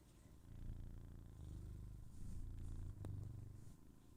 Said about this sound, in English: She's a purr cannon. She just doesn't stop purring.